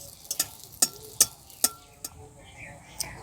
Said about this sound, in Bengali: দিয়ে ওপর থেকে এইভাবে গরম তেলটা দিতে হবে